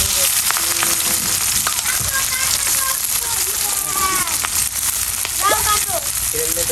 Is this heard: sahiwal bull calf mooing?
no